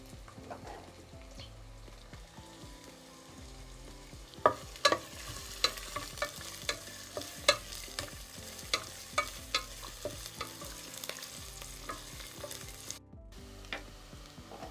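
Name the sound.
chopped onions frying in oil in a pan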